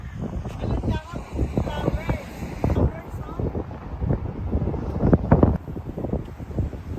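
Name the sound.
strong wind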